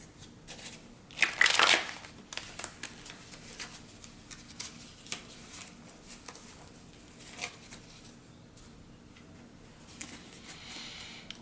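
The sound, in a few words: shuffling a deck of reading cards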